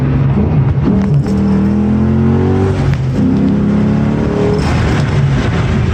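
A 2009 Ford Mustang GT/CS engine drones loudly and steadily while driving, its pitch climbing through rising revs, dipping around a shift, then pulling up again, with no one talking.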